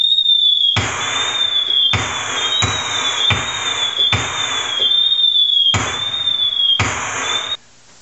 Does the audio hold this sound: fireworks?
yes